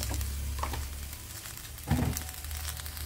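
Oil poured into a hot pan for a Goan fish curry sizzles steadily near the mic, with a brief stir or clatter part way through and no talk.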